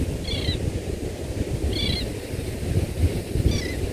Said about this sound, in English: Listen to those waves, the birds.